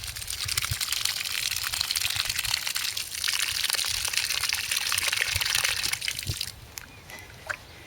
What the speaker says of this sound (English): what you then need to do is to give them a good water in